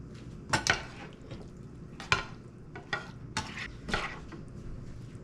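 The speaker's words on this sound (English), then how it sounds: "put the meat mixture on top of the biscuit mixture" A spoon scrapes and clinks against a pan as a meat mixture is spooned over a biscuit base for a casserole, giving a few separate metallic taps and scrapes over a quiet background.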